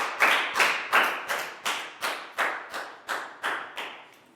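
Students in a classroom clapping together in slow unison, about a dozen evenly spaced loud claps in steady rhythm, close and clear with no talking.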